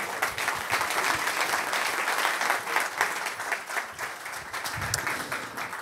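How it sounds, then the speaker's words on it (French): An audience at a business leaders' conference in Avignon applauds to welcome the host, steady, moderately loud clapping from a sizeable crowd heard close and continuous throughout. "Vous l'applaudissez, vous l'accueillez?"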